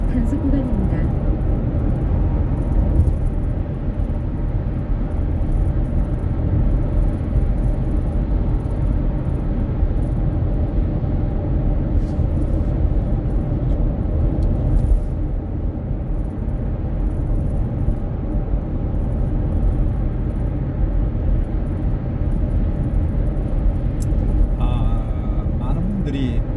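A car cruises at about 100 km/h on a Korean expressway from Jinju to Changwon, heard from inside the cabin as a steady, loud low rumble of road and engine noise that continues throughout, with voices at times over it.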